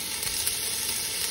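Onions, curry leaves, ginger and garlic fry in a pan for crab curry, giving a steady, loud, close sizzle with no talk.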